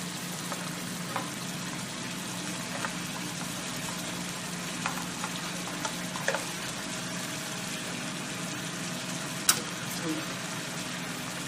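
A garlic herb shrimp sauce simmers and reduces in a pan, giving a steady, even sizzle with occasional small pops and faint utensil clicks over several seconds.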